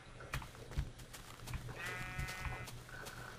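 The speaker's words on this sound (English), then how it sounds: "darn sheep" Sheep bleating in Minecraft, a few short nasal bleats rising over a quiet backdrop of blocky footsteps and game sounds, fairly close and clear.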